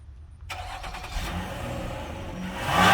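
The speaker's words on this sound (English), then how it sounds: "Go ahead and start it up, Danny." A car engine being restored for oil consumption cranks and catches, then settles into a steady running idle that grows louder toward the end, close by with no talking.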